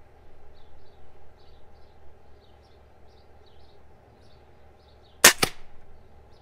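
A Stoeger XM1 air rifle, 20 joules, fires an H&N pellet outdoors, one sharp loud crack with a short echo after a quiet stretch with faint birds chirping.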